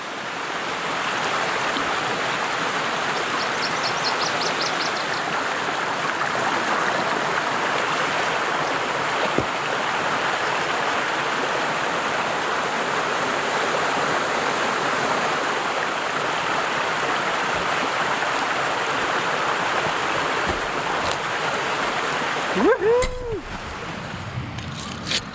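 A small waterfall flows steadily in the wilderness, a constant broadband rush of water that holds even and close throughout, with a brief splash or disturbance near the end.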